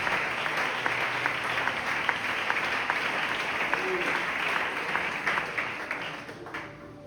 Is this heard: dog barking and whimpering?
no